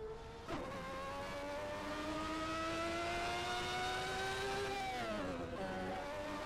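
A Formula 1 V8 racing engine in the video game Assetto Corsa revs steadily upward in pitch for several seconds at the Goodwood hillclimb, then drops sharply and settles into a lower, continuous roar.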